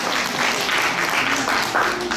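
Audience applause at a live children's quiz challenge in Paris, a steady, close burst of many hands clapping with faint voices mixed in.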